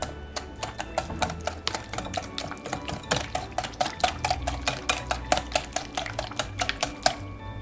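A spoon or spatula clacks steadily against a bowl while orange-chocolate pumpkin bread batter is stirred, a fast regular series of sharp knocks over a low kitchen rumble, with no talking.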